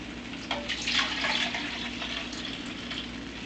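Beef broth pours steadily for a few seconds, a soft splashing rush that swells early and then settles into an even trickle, close by with no talking.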